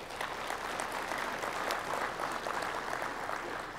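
A crowd applauds at the opening of a grain farmers' conference, with dense, even clapping that fills the room at a steady level from start to finish.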